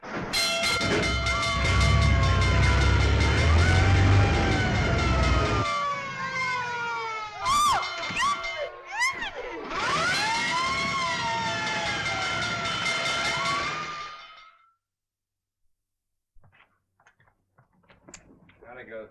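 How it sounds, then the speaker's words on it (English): A busy mix of fire engine rumble, clanging and wailing horn-like tones, with a siren-like sweep and voices briefly, ending abruptly in near silence, from a 1937 film. "looks as if I finally get my ride on a fire engine"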